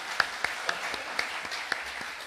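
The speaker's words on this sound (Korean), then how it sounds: "따뜻하게 박수로 좀 환영해 주시면" Scattered, faint hand claps from a church congregation welcoming a missionary's wife and daughter, a handful of separate claps spaced unevenly over a couple of seconds.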